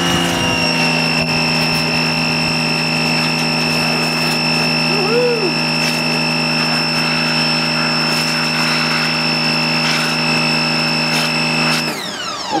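A pressure-washer foam cannon sprays car wash soap over a Ford GT350, a loud, steady droning whine with sustained tones that runs unbroken for about twelve seconds and then stops.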